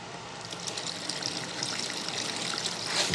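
Melted yellow beeswax trickling out while it is rendered, a steady close liquid dribble and hiss that stays even and unbroken throughout, with nothing else heard.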